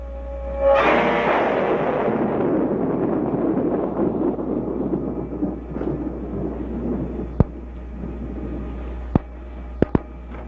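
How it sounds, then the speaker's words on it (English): Thunder in a rainstorm, a loud crack that rolls into a long fading rumble, followed later by a few sharp isolated clicks in the quiet. "Well, another stormy weekend."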